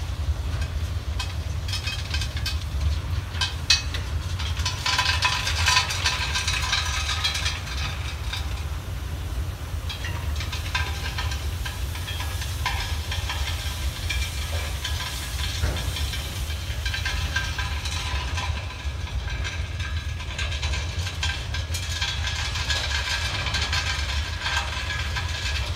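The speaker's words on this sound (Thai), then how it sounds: "นี่นะปล่อยหินลงนะครับ" Ballast stones pour from railway hopper wagons onto newly laid double-track line behind locomotive DD 511 137, making a steady rushing, hissing rumble that holds for the whole stretch, close and continuous with no speech.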